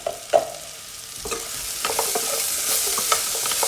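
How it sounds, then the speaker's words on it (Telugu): Eggplant, potato and tomato curry being stirred and fried in a pan: a close, steady sizzle with repeated spoon scrapes and clinks, no voices. "బాగా కలుపుకొని మూత పెట్టి ఫ్రై చేయాలి"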